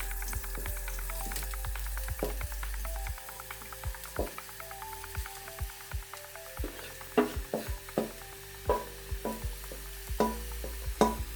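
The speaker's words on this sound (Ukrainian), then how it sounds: "Розтоплюємо на пателі вершкове масло і підсмажуємо гриби." Mushrooms frying in melted butter in a pan, quiet crackling and popping that grows busier, with clinks of a utensil against the pan and a faint hum underneath, no speech.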